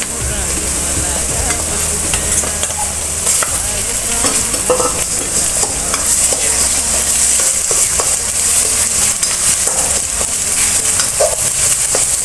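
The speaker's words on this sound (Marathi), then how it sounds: "आपला कांद्याचा रंग बदललाय, आपण ह्यात वाटण घालून घेऊया।" Onion with ground masala paste fries loudly in a pan for dhaba-style egg curry, a steady bright sizzle with repeated scraping stirs throughout and no voices.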